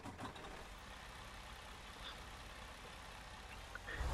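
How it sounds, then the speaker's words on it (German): A truck engine in American Truck Simulator starts and settles into a low, steady idle, fairly faint and constant, with a slight rise in rumble at the very end. "LKW starten."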